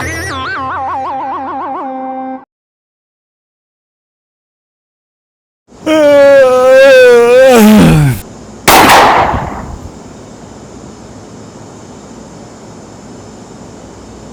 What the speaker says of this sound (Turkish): yüksek bir patlama sesi duyulmuştur